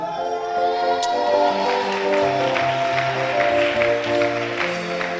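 A church congregation claps in sustained applause under a held organ or keyboard chord, moderately loud and continuous.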